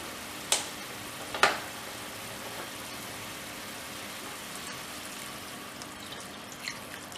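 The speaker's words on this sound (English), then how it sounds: "add a little bit of butter to the pan and our beef stock. Keep this on a medium to high heat." Lamb bones cooking in a pan with butter and beef stock over medium to high heat, a steady broad sizzle and bubbling hiss with two brief clinks near the start.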